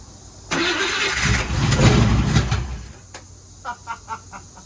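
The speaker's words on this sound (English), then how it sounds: "Let's see if we can get this Buick running." A 1963 Buick Special that has sat for years cranks briefly and catches, its engine roaring loudly for a couple of seconds before dropping to a rough, uneven idle with sputtering pulses.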